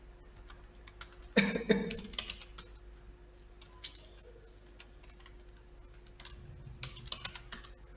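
Typing code on a computer keyboard during a CSS lecture, irregular bursts of close clicky keystrokes with a louder cluster early on and quieter taps throughout.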